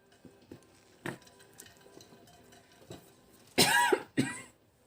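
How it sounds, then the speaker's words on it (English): A person with a dry, allergy-irritated throat coughs during a quiet stitching session: a single cough early on, then two loud, harsh coughs close together near the end, with faint handling noises between. "Oh my gosh, I'm gonna cough soon."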